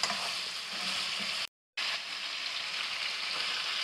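Steady oil sizzle of chicken frying in a pan for Shinwari chicken karahi, loud and close, with a brief silent gap midway before the crackling frying resumes.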